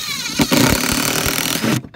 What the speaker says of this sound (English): Stick it on there, and you should hear the drill ratchet all the way in,